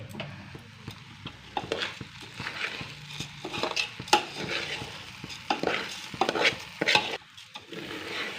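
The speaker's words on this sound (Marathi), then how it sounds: "चांगलं एक पाच मिनटं हे तांदूळ चांगलं परतून भाजून घ्यायचं आहेत" Rice for veg biryani is stirred and roasted in a pan, with irregular scraping and clinking strokes over a soft, low sizzle, close and moderately loud.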